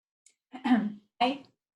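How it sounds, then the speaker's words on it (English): Two short, rough throat clearings close by, a longer one followed by a quicker second after a brief pause. "you can clear your throat along with me"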